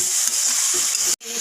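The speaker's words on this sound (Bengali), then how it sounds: "ডিম কষা হয়ে আসছে" Eggs being sautéed in a pan of spiced gravy for egg kalia give a brief, bright, steady sizzling hiss with faint stirring, cut off by a sudden momentary silence before resuming.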